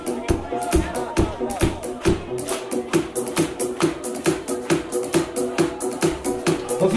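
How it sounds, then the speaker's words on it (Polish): Rhythmic clapping from a club audience, steady and fairly loud, with music and crowd noise underneath throughout. "Cały terminal klaszcze."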